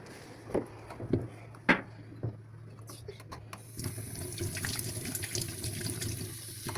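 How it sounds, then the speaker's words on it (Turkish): Running tap water for washing hands, first a few knocks and splashes, then a steady faucet stream pouring into a sink for the last few seconds, with voices talking over it. "Ellerimizi yıkamamız lazım."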